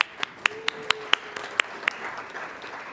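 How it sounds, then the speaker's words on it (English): At an Ohio higher education gathering, a handful of sharp, separate hand claps ring out at an uneven pace, rather than a full wash of applause, over quiet room tone. "give yourselves a warm round of applause"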